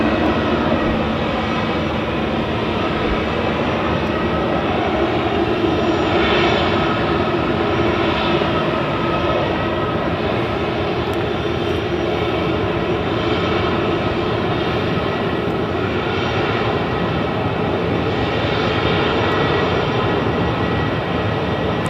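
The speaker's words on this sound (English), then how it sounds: "Nothing beats the sound of a jet engine." A loud, steady jet engine roar at Southend Airport fills the whole stretch, a constant broad rushing drone with no break.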